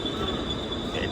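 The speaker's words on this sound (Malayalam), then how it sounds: "അപ്പം നമ്മൾ ട്രെയിൻ വന്ന് കാലിയാണ് കാണുന്നത്." A train pulls into the busy Mumbai CST terminus, its wheels giving a sustained high metallic squeal over rumbling rail noise, heard briefly and fairly close.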